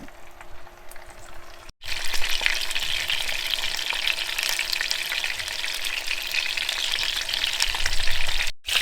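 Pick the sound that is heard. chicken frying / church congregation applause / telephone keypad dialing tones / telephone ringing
chicken frying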